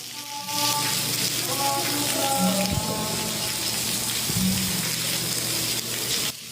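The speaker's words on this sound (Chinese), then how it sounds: "雨水是沿楼梯一直拼落来" Heavy rainwater pours down the indoor stairs of the Xitun branch of the Taichung city library during a downpour, a steady, loud rushing hiss under a low hum, with a couple of brief tonal thumps.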